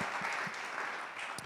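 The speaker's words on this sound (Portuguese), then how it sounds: "Dá um aplauso ao Senhor." A church congregation applauding, a soft, distant, continuous patter of many hands clapping.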